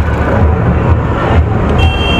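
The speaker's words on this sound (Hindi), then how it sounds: "ये सब टूरिस्ट बस जा रहे हैं नंदगांव को" Heavy road traffic rumbles close by on a crowded highway toward Nandgaon during Dussehra, tourist buses passing with a loud low engine drone and a brief high tone near the end.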